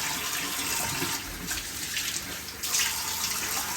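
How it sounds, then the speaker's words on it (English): Warm tap water runs steadily into a sink while a face is rinsed, a continuous splashing gush with brief bursts and shifts as hands move through the stream, close and fairly loud. "now what you want to do is you want to just rinse it off with warm water as well"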